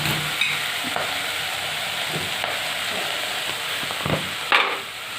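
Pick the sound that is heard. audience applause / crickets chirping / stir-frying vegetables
stir-frying vegetables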